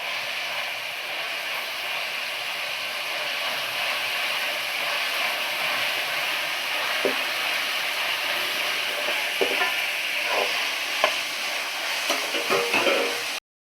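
Chopped onions and green chillies sautéing in a pan for crab gravy, a steady sizzling hiss with a few soft scraping stirs near the end, no voices.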